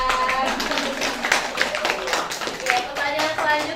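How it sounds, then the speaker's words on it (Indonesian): Young schoolchildren in a first-grade class clapping their hands together in a quick, uneven patter of many close claps, with chatter and voices mixed in throughout. "Tepuk tangan."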